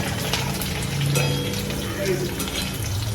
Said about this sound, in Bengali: পেঁয়াজ লাল লাল করে ভাজা হচ্ছে